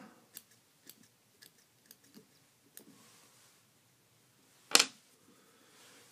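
Scissors trim a false fingernail glued on a fishing fly, giving a series of small, close, quiet snips in a steady rhythm, then one louder sharp cut near the end.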